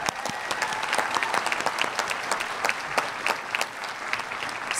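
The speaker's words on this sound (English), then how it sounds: "So give yourself a round of applause." Commencement audience of graduates at a humanities, arts and education ceremony breaking into sustained applause, a dense steady wash of many hands clapping for about five seconds with a faint crowd murmur underneath.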